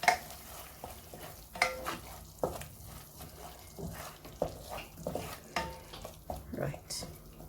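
Spoon stirring chili powder into a fish and edo curry in a pan, soft scraping strokes in an irregular rhythm over a faint simmering sizzle, close and quiet.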